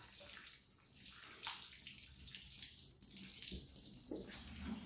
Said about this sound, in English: You water that soil.